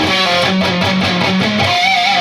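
Distorted electric guitar section, palm-muted low notes chugging in a steady rhythm, then a held harmonic with vibrato, loud and close with no talking.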